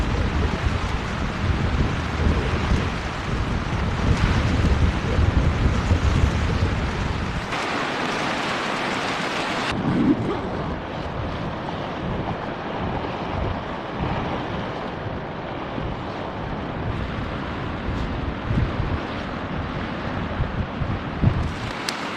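Strong winter wind sweeps across a frozen island, a steady, loud roar with buffeting gusts hitting the microphone and no voices.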